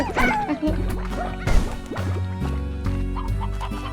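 Chickens cluck and squawk in the video game Slime Rancher, several sharp bursts over a layered backdrop of game music and clattering effects.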